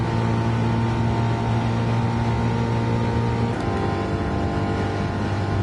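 Alfa Romeo Group 4 race car engine in a racing video game, a loud, sustained droning engine note held steady and close, with a slight shift in pitch partway through and no talking.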